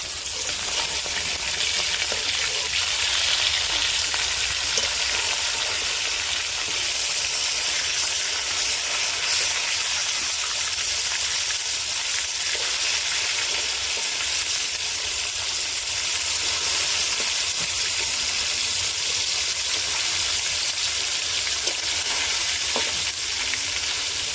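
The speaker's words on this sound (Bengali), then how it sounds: "মাছটা একটু ভাজা হয়ে গেছে, উল্টে দেবো।" Rohu fish pieces, cut from a 2.4 kg fish and just flipped, sizzle steadily in hot oil with a continuous close crackling hiss and no pauses.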